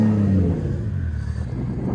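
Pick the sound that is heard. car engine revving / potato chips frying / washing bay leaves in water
car engine revving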